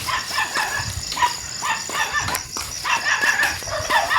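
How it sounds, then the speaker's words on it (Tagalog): Dogs at a house bark outdoors, a string of repeated sharp barks at a moderate distance over steady background noise and faint ambient sounds. "Yan na yung mga aso nila."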